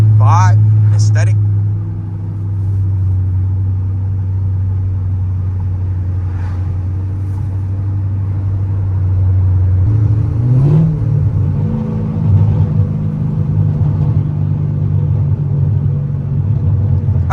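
A modified Chrysler 300C drives along with a steady low engine drone, then its revs shift around a downshift into second gear, the rumble rising and changing pitch; a voice speaks over the engine noise.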